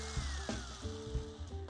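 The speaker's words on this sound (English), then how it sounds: "I've chucked a 1/16 inch drill bit into my cordless drill, and I'm going to drill holes around the periphery of the panels" Cordless drill fitted with a 1/16 inch bit boring small holes around the edges of plywood stitch-and-glue kayak panels; a steady motor whine with short bursts and brief pauses between holes, close and fairly loud, with no talking.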